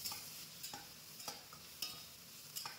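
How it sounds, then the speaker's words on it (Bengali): Ginger garlic paste sizzles faintly in a pan of fish curry while a spoon scrapes and stirs in sharp, evenly spaced strokes, close but quiet, with no talking. "যেহেতু আমি মাছের ঝোল রান্না করছি তার জন্য দিয়ে দিচ্ছি একটু আদা রসুন বাটা।"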